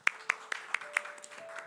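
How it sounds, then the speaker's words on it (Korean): A studio audience welcomes a couple with light, sparse applause, a handful of distinct claps at a steady pace, close and fairly quiet, with faint background murmur. "우리 나오실 때 큰 박수로 환영하겠습니다."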